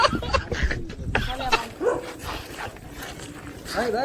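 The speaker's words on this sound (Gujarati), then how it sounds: "આ કૂતરા જોઈ શકો છો" Dogs yip and bark in short bursts close by, mixed with people talking over them.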